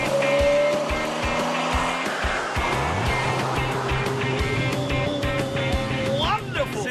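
A Renault Alpine A310 sports car drives on an open road. Its engine drones loudly up close and rises and falls through gear changes, with wind and road noise behind it. Faint talk sits under the engine.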